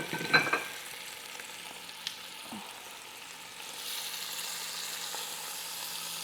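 Beef pieces sear in a pan for braised beef, a soft steady sizzle with a few clinks and stirring scrapes near the start, quiet and without talk.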